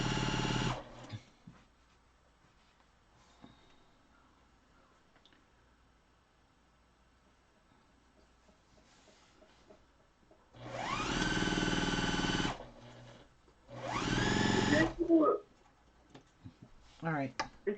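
A sewing machine stitches quilt fabric in two short motor bursts with a rising whir, close and loud, after a quiet stretch of faint handling noises.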